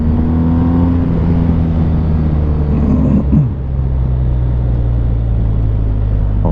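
A 2021 BMW 1250GS motorcycle engine hums with a steady, strong tone, then dips and shifts as it slows under engine braking and settles into a lower, continuous drone.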